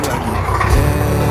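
A farm vehicle engine running steadily with a trailer hitched, a loud, close, continuous mechanical hum and rumble with no break.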